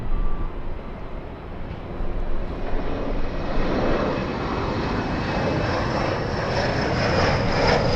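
An Emirates airliner in a special 25th-anniversary Skywards livery at Los Angeles International Airport, a loud continuous engine roar that swells gradually as the plane passes nearby, with no talk over it.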